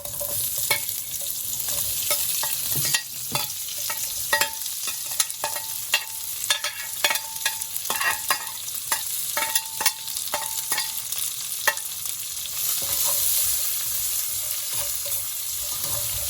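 Onions for an eggplant curry fry in a pan with a close, steady sizzle, broken through most of the stretch by frequent sharp scrapes and clacks as they are stirred, with no talking.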